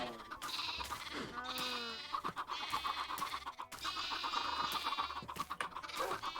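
Minecraft farm animals, sheep, cows and chickens, with bleats and clucks repeating over a steady backdrop of game music, the animal calls coming and going throughout.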